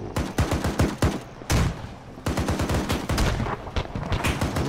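Heavy gunfire in ArmA 3, with loud rapid bursts of big-caliber rounds fired in quick rhythmic strings, broken by a short pause and a single heavy shot, then resuming as sustained automatic fire.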